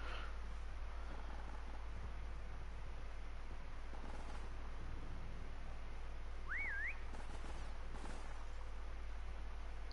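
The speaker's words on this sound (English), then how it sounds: "he's probably heard that whistle" A short rising-and-falling whistle taunt in MWR Prop Hunt, played once partway through and fairly faint, over a steady low game rumble with occasional faint footstep-like thuds.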